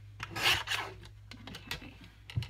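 Paper for a junk journal is cut with a few rasping, scraping strokes, close and fairly quiet, with short pauses between cuts.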